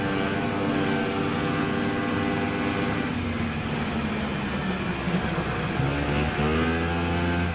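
A vintage one-lunger snowmobile engine races through a tight corner at about 35 mph, a steady buzzing drone with slight pitch dips, moderately loud and continuous, with no voices.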